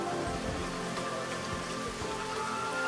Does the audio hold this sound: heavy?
yes